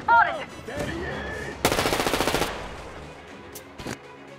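Enemy soldiers in Metro Exodus open fire during a stealth mission, a loud, rapid burst of automatic gunfire lasting about a second, followed by a few scattered shots, with shouting voices heard just before.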